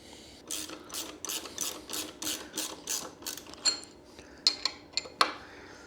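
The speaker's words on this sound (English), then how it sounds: "To tighten up this axle and nut, you are going to need a 17mm and a 15mm." An axle nut on a Seemoon SM4 electric dirt bike is tightened with 17mm and 15mm wrenches, making faint, steady rhythmic ratcheting strokes that end in a few sharper metallic clicks, with no talking.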